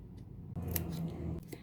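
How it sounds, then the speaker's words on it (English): Scissors snip through craft paper in a close, quiet sequence of short crisp cuts, with no talking. "you're going to cut a little sliver off the sides of these two"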